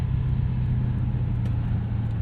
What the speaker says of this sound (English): listen to this V8 a little bit more